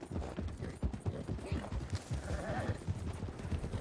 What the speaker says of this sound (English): What kind of horse you got there? It's an Arabian.